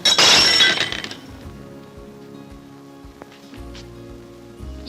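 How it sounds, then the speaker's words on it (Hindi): Teacups break with a loud, bright crash and a brief scatter of shards, then settle into a quiet room with faint small knocks. "ये प्याले कैसे टूट गई?"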